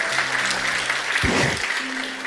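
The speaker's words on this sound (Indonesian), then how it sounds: "Oke, tepuk tangan lagi." A congregation at a pastor's sermon claps in a brief round of applause, steady and fairly loud, with a low hum and a single thump partway through.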